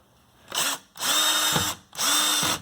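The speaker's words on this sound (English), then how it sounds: "You could hear the torque setting kick in." A power drill driving screws into cabinet panels whirs in three short bursts, each ending in a sharp clicking as the torque clutch slips, close and loud.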